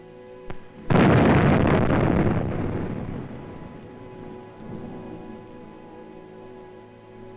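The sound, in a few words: army sappers blasting a road with explosives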